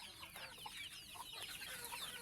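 Chickens cluck softly on a farm, a few quick overlapping clucks and chirps, faint and fairly close with no talk.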